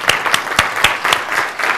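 Audience applause at a developer conference session on customizing Visual Studio: a steady patter of many hands with a few sharp individual claps standing out, fairly close and continuous throughout, with no talk over it.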